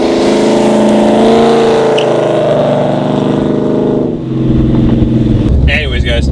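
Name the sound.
2004 Mustang GT engine with BBK headers, Magnaflow exhaust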